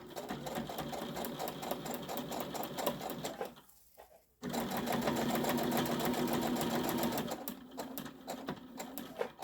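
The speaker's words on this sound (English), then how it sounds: "I am going to just go do a quick back stitch, a couple stitches on my hanging strap here." Sewing machine running steadily through two bursts as it back stitches a few stitches on a fabric pot holder's hanging strap, with a brief pause between runs; close and continuous.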